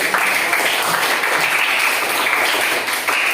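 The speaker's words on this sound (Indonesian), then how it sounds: "Tepuk tangan dulu." A group claps steadily, a dense even patter of applause that continues throughout with no pauses.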